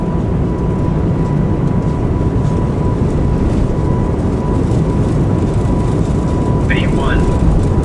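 Airbus A220 jet engines at takeoff power in a flight simulator, a loud, steady broadband roar filling the whole stretch without letting up, with a voice speaking faintly beneath it.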